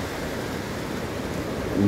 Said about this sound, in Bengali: বৃষ্টি শুরু হলে সে কি বজ্রপাত